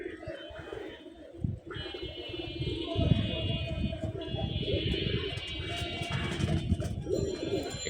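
Pigeons coo in a busy loft where Giribaz, Gorra and Army breeds are kept, their low throaty calls blending with chirps, rustling and a voice speaking nearby.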